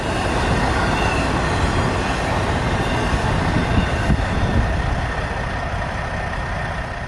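Trains roll past in Northeast Ohio, a loud, continuous rumble of railcars and wheels on track that stays close and steady for several seconds with faint squeal.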